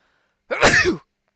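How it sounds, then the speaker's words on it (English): A single close sneeze from a man during a casual MMA chat, a sharp burst with a breathy intake and release lasting about half a second, surrounded by silence. "But hold on, I feel a sneeze"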